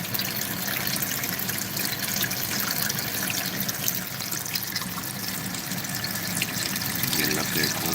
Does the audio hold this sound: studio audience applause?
no